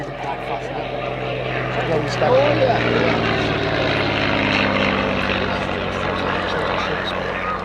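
A propeller-driven transport aircraft at an air and car show, a fast long-range plane with a four- or five-seat cabin used by the Army and National Guard, drones steadily and loudly throughout under a public-address commentator's voice.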